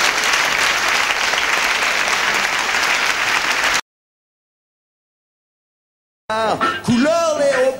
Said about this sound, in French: Il faut toujours applaudir les patrons au début d'une émission